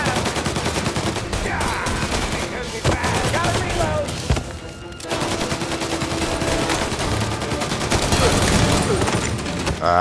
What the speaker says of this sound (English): This is not your average gunfight, bro. It's really intense.